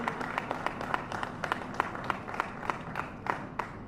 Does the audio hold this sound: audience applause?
yes